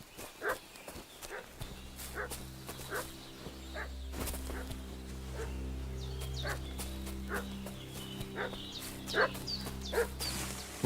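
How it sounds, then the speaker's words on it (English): Dog barking in the medieval game Kingdom Come Deliverance 2, repeated sharp barks scattered over a steady low hum of ambient game sound, with horse hoof clops mixed in. "What's that dog making such a fuss about?"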